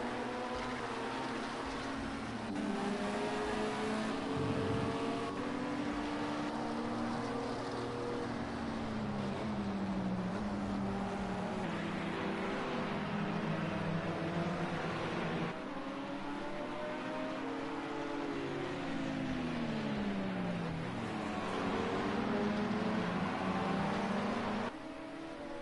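Race car engine at an endurance race at Spa, heard from a roof camera on board, roars steadily for the whole stretch, pitch rising and falling through gear changes and corners, loud and close with no talk.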